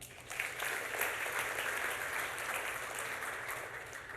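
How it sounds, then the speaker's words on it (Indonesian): Seminar audience applauding steadily for about four seconds, a dense even wash of clapping that holds at a constant level throughout. "Tepuk tangan."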